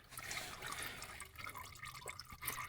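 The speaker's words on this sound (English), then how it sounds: "you want to do this with a drain pan because you will lose fluid" Faint, quiet trickling and dripping of transmission fluid from a 2021 Rogue into a drain pan, a soft irregular liquid patter close by.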